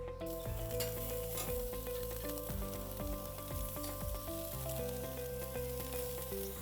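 Lamb sizzles on a very hot barbecue grill, a steady, close crackling hiss running under prominent background music.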